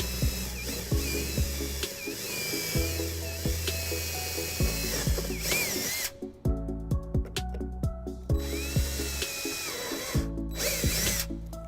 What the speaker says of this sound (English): then we're going to drill a couple holes here, drop some screws down and bolt it down